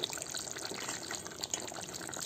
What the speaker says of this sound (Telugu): చికెన్ పులుసు వేడివేడిగా ఉడుకుతుందండి